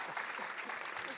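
A brief burst of audience applause, many hands clapping together in a dense, steady patter.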